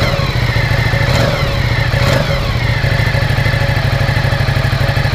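Ducati Diavel motorcycle engine running loud and close, a steady throbbing rumble with a couple of brief rev swells near the start, then settling back to an even beat.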